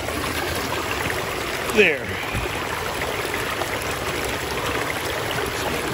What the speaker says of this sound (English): A little waterfall next to me